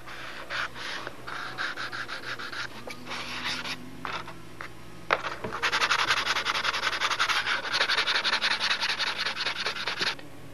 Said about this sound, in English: I got that little Bob Martin sanding block, which is nice and flat